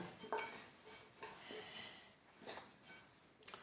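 Faint scraping and light clinking of a utensil stirring a plantain and oat mixture in a bowl, irregular strokes close by with no talking.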